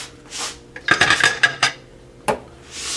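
A metal pressure cooker with a locking lid scrapes and clanks against the stovetop as it is shifted, giving a short cluster of close metallic knocks followed by one more clunk, with quiet breathy noise around it.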